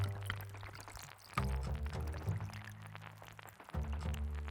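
Hot water poured into a container over kelp and bonito flakes, making a soft, continuous splashing pour heard close and fairly quietly, with a brief pause partway through.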